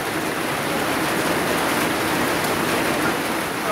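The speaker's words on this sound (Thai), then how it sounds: "อันนี้ฝนตกพี่น้องเอ้ยเบิ่งดูบ้านนอกเฮาฝนตก" Steady, dense rain falls throughout on a rural Thai village, a constant hiss of drops hitting surfaces with no pauses and no voices.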